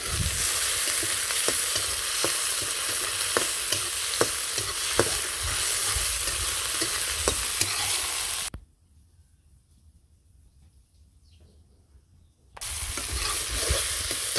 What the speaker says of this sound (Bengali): পেঁয়াজ আর টমেটো কাঁচামরিচ কষানি হয়ে গেল